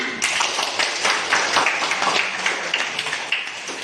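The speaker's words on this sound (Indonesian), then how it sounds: "Tepuk tangan semuanya." Children and classmates clap together in a school classroom, a dense, steady patter of hand claps filling the room for several seconds.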